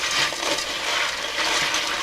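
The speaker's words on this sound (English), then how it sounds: "we're going to turn the water on and just wash it" Pinto beans are rinsed under a running kitchen tap, giving a continuous splashing rush of water with small rattling swells, close and steady, with no talking.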